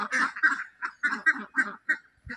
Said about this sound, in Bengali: কত হাঁস দেখুন এখানে